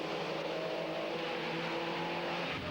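A pack of 1997 TVR Tuscan race cars heading toward the first corner at Castle Combe: a sustained, loud engine roar with layered droning tones of several cars at once, steady with slight pitch shifts.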